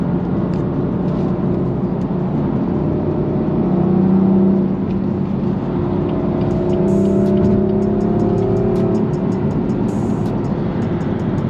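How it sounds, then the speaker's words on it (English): Stock BMW M4 Competition with manual gearbox and turbocharged engine accelerating on an open road, a steady interior engine drone with rising and falling revs and faint turbo whir, heard from inside the cabin. "this thing sounds good nonetheless. You know what I'm saying? I'm hearing the turbos here and there when I step on the gas"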